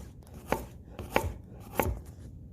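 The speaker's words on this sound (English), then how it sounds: "So let's just do some chopping of carrots real quick so you can see the same way." Knife chopping carrots on the bias on a cutting board: three sharp, evenly spaced chops about two-thirds of a second apart, close and clear with no talking.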